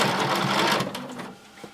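Sewing machine running a regular stitch at length 2.5 along a circle skirt waistband, a fast, steady, close mechanical whir that slows and stops partway through, leaving quiet handling noise.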